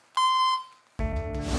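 A telephone voicemail prompt sounds after an unanswered call: one clear electronic beep lasting about half a second, then a short pause before a louder, fuller tone-rich sound starts abruptly and carries on.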